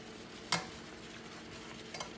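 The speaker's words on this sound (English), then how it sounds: "We have our chicken cooking up in that brown gravy and all your Trinity" Chicken simmers in brown gravy with green peppers and white onions, a quiet, steady sizzle broken by one sharp utensil clink near the start and a softer knock near the end.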